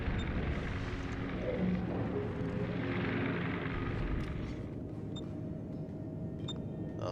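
Aircraft drone past in a naval warship battle game, a broad rumbling roar that swells and then gradually recedes, heard alone with no talking.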